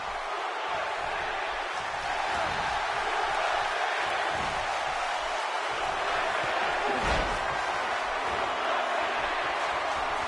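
A WWE wrestling arena crowd roars in a steady, loud wash of cheering that holds for the whole stretch, swelling slightly partway through.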